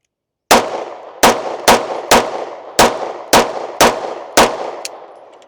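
A Bul Armory 2011 pistol fires 115 grain ammo: eight loud, close shots at an uneven pace, each a sharp crack with a short ringing decay, and no voices.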